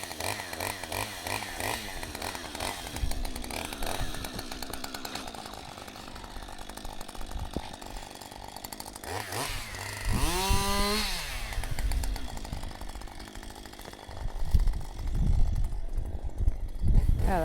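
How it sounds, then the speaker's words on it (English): A chainsaw with a bent bar and a chain that keeps loosening cuts wood, revving and bogging in uneven bursts with a sharp rising whine partway through and rougher revving at the end. "we need a new bar for the chainsaw, so it's bent, so it keeps loosening his chain"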